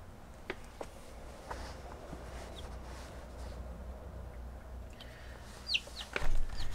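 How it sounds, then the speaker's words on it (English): Newborn chicks on their first day in an incubator give faint, scattered high cheeps over a low steady hum, with a few louder chirps near the end. "These are the chicks, and it's their first day here in the incubator."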